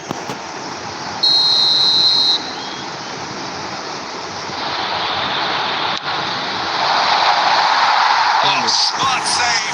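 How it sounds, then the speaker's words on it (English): A referee's whistle in the eFootball 2026 video game, one short, sharp, high blast lasting about a second over loud crowd roar. "There it is, the whistle, no avoiding penalties."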